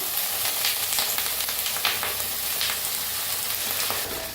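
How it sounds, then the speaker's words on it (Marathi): Brinjal sautéing with potatoes in hot oil in a pan crackles and sizzles loudly and continuously up close, broken by repeated scraping stirs. "काढून घेतलेत बटाटो त्यातच वांगे बी परतून घेऊया आपण"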